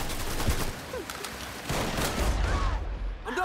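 Video game gunfire with grenades in play: a dense, continuous rattle of shots and distant blasts through the whole stretch, with no clear gaps.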